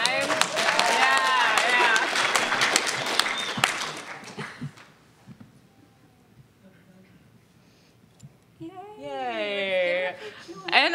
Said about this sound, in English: if you could clap really loudly so people in other rooms think we're having a really good time